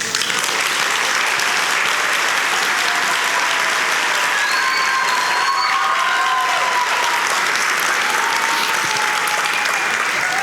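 Sustained applause from a large audience at a folklore festival, steady dense clapping filling the whole stretch with faint cheering and whistles rising above it.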